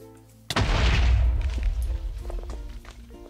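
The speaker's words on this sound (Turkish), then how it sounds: "Ya gizli geçit patladı" A sudden loud explosion in Minecraft booms after a quiet moment, followed by a rolling, crackling rumble that gradually fades with scattered smaller thumps.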